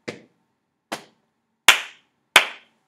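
Hands clap in a children's music lesson as part of a stomp, pat and clap rhythm. Four separate sharp claps fall at uneven intervals in a quiet room, and the last two are louder and brighter than the first pair.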